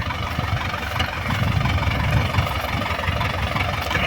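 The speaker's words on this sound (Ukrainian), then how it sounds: "Зараз вже приїхав трактор." Tractor engine idling on a farm during hay baling, a steady, close low rumble with a slightly uneven throb, running continuously with no voices.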